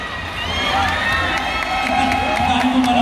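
A crowd at a Pride march in Sta. Rosa, Laguna cheers and claps for a guest speaker, a dense, loud and continuous roar of shouts and whoops throughout.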